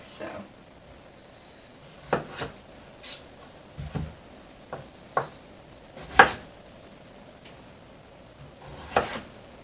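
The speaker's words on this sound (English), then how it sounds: "I'm going to chop these next. Let me get my knife. And I like to cube it, like not too big so it doesn't take too long to cook." A knife cuts parsnip into small cubes on a board, giving a handful of sharp, irregular chops spread apart with quiet pauses between them, close and fairly crisp.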